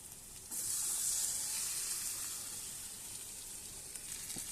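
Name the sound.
tarka dal poured into mixture, sizzling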